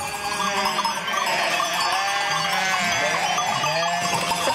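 Sheep at feeding time bleat from several animals at once, with overlapping wavering calls close by, over a constant busy flock background.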